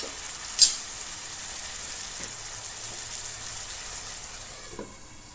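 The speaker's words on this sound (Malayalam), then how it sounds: "ആ ചിക്കനെല്ലാം നല്ല കറക്റ്റ് ഈ പരുവത്തിലാണ് വറുത്ത് കോരേണ്ടത്" Chicken pieces frying in oil with a steady, faint background sizzle, a sharp clink of a utensil early on and a softer knock near the end, no voices.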